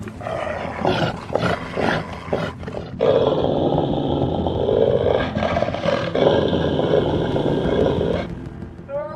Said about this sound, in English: A howl breaks the stillness, tearing through the peaceful atmosphere.